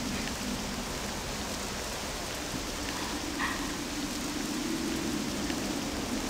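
Steady rain falls in the video game Octopath Traveler II, a dense even hiss of downpour on surfaces, continuous and moderately loud without pause, no talking.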